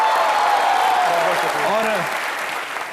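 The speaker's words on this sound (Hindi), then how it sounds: "इनके लिए जोरदार तालियां।" A studio audience on a comedy talk show applauds for cricketer Yusuf Pathan: a dense, steady wash of clapping that fades slightly toward the end, with a voice speaking over it.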